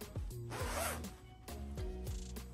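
A gold zip on a Gucci GG-print canvas maxi jacket is pulled in several short, close, crisp runs of toothy rasping, with brief pauses between pulls.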